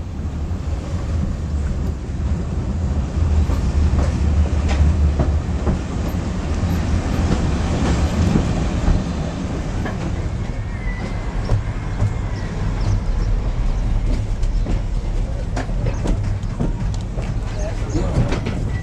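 A Welsh Highland Railway train rumbles steadily along the rails with a continuous low roar, faint rhythmic clacking and wind buffeting the microphone throughout.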